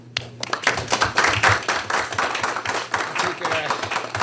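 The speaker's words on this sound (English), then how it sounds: "ask for another round of applause for our three trailblazers" An audience at a CUNY Board of Trustees committee meeting breaks into applause, a dense, sustained patter of clapping hands filling the room for several seconds.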